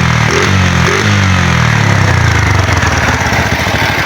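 Old Bajaj 100 motorcycle engine running after five years of sitting unused, a loud, close, uneven idle with a rough pulsing beat that holds steady throughout.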